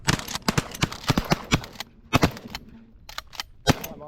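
Shotgun fire on a pigeon hunt: a rapid string of sharp blasts from several guns, some overlapping, then a few more spaced shots, loud and close outdoors.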